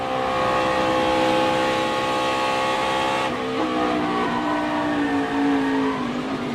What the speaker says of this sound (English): We'll go in car with him and watch his hands and listen to the throttle